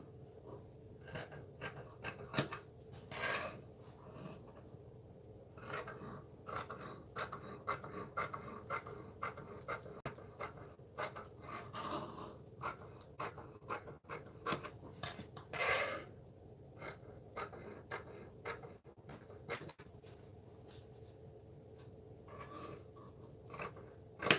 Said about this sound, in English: just go ahead and cut your second strap out